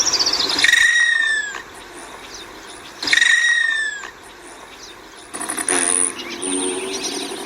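An Allen's hummingbird gives two sharp descending chirps, then makes a brief, dry buzz with its outer flight feathers. The sounds are close and loud against a quiet background.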